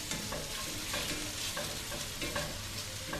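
Curry sauce with onion for lamb rogan josh fries in a pan, a dense, continuous close sizzle with rhythmic stirring scrapes and no talking.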